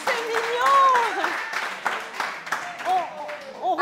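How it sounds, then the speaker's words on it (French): Applause from a TV studio audience on a French-language romance game show, a steady clatter running beneath a speaking voice. "applaudissements dans le public"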